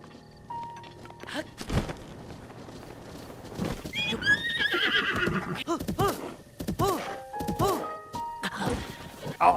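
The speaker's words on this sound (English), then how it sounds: "There's some horses." Horses in The Legend of Zelda: Breath of the Wild whinny and neigh loudly several times, close by, with hoof clip-clops and a few thuds mixed in.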